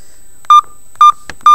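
A big-button Mobiho Essentiel Classic Easy mobile phone for seniors plays a loud, shrill ringtone of three short, evenly spaced electronic beeps, close and piercing.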